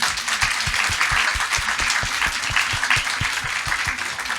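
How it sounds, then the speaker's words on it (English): Audience applauding at the close of a conference discussion session, a dense and steady wash of many hands clapping at close to medium range for about four seconds, continuous and even without any voices. "Let's give a round of applause for them."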